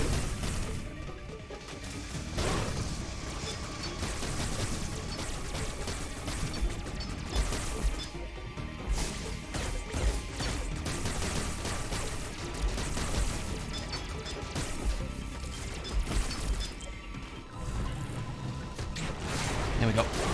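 Missiles fired at a boss in Metroid Dread on hard mode, a dense stream of mechanical clanks, bursts and crashing impacts running continuously over game music, with a voice talking intermittently throughout.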